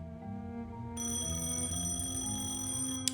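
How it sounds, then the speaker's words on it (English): A phone rings in the video game Penelope Pendrick and the Art of Deceit: a steady electronic ringing tone over a low background hum, with a brief sharp click near the end and no speech. "Okay, phone call."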